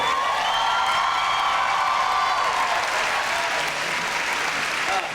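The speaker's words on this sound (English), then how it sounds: "let's have a round of applause for this incredible group" A Comic Con panel audience gives loud, sustained applause with cheers and whoops mixed in, easing slightly toward the end of five seconds.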